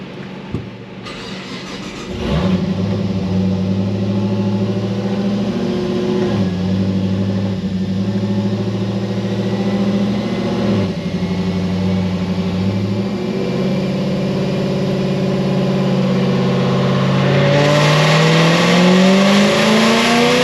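A turbocharged car engine running on 10 pounds of boost and straight pump gas, starting up and then holding a loud, steady drone that rises in pitch toward the end, heard up close with no talking.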